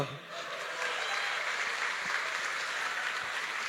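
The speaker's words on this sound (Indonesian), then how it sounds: "Kasih tepuk tangan dulu dong." Applause from the audience at a startup talk, a moderately faint, even patter of many hands that rises after a brief dip and holds steady, heard from a distance.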